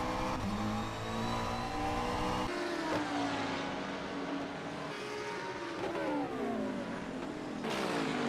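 GT3 race cars at the Red Bull Ring, a McLaren closing on an Audi, engines revving and shifting through gears in a continuous, fairly faint drone with rising and falling pitch as the cars pass.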